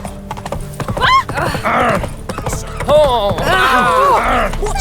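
Roach, Geralt's horse in The Witcher 3, trots with steady hollow clip-clop hoofbeats, joined by a whinny and snorts, while a voice talks over the hooves.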